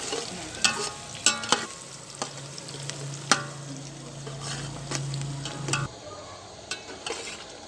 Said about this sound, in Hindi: अब हम प्याज को खूब भूनेंगे।